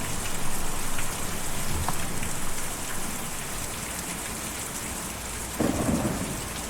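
Heavy steady rain hisses throughout with low rumbling thunder in the video game Kentucky Route Zero, and a brief louder burst of rainfall near the end; no voices.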